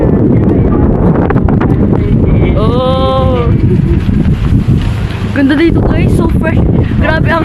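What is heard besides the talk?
strong wind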